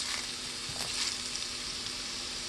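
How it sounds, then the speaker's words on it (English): Crumbly paneer frying and being tossed in a pan, giving a steady close sizzle with soft scraping and turning sounds and no talking. "I just have to be very careful when I'm tossing and turning it in the pan"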